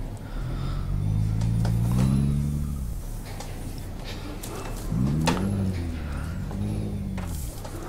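An in-game truck in American Truck Simulator drives along with a low engine drone that rises and falls through gear changes and revs. Small clicks and knocks sound over the steady rumble, and there is no talking.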